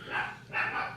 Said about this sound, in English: Sorry for that dog.